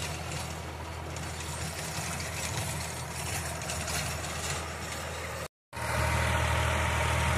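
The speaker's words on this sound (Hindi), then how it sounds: "रोटावेटर से जुताई कर रहे" A 32 hp ACE DI 854 tractor tills a field with a 7-foot rotavator, its engine a steady mid-pitched drone heard from a distance, briefly cut before returning louder and closer.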